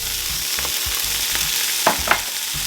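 Garlic and capers sautéing in a hot pan, a loud close sizzle and fry with repeated stirring scrapes and a couple of sharper clinks.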